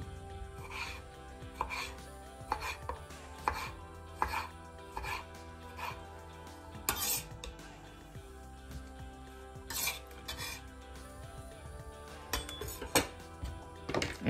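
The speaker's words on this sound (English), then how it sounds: "Just do this, chop this up any size that you want." A knife chops ingredients for guacamole on a cutting board, giving repeated close, sharp taps at a loose, uneven rhythm over steady background noise, with a few clinks of dishes mixed in and no voices.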